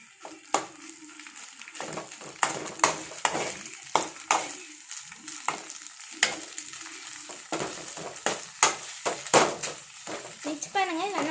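Spaghetti pasta being stirred and tossed in a pan, with sizzling and repeated scraping, clattering strokes of a utensil against the pan up close, while a person talks over it.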